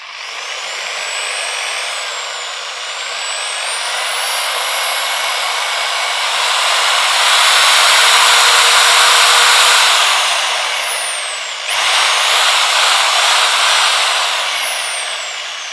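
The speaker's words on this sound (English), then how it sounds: "let's try to understand how the speed varies as we trigger the switch." A corded Bosch GSB 10 RE impact drill runs with no load and winds steadily up and down in pitch as the trigger changes its speed. The whine is loud and close, dips sharply once, then surges back up. No one speaks.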